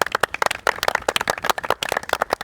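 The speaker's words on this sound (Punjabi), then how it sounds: "ਤਾੜੀ ਲਾਓ ਬਾਈ" A studio audience claps at a quiz show held at a dera. The clapping comes as a brief, dense patter of sharp hand claps, close and fairly loud.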